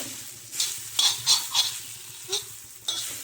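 Khichdi is stirred and sautéed in an iron pan, with a soft continuous sizzle under several distinct scraping strokes of a spoon against the pan, spaced irregularly and fairly close.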